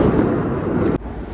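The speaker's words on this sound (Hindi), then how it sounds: "पटाखे फूट रहे हैं" Diwali firecrackers bursting in a dense, continuous roar of overlapping bangs and crackles that cuts off sharply near the end, leaving a quieter rumble of distant explosions.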